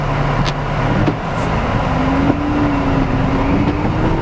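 Road traffic rolls past on a street during snow plowing, a continuous low rumble of cars with one vehicle's engine tone rising and holding, loud and close, with no talk.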